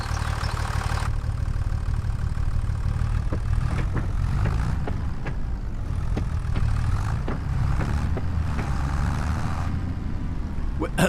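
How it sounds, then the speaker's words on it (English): A water tractor's engine running in the video game Farming Simulator 25, a steady low idling drone throughout, with a voice talking over it and scattered clicks and small knocks. "Oh, it's my water tractor that's running. I heard a tractor running."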